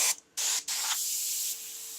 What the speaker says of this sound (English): I'm not spraying from quite a distance, about 3 centimeters away, just to darken this side of the skull down a little bit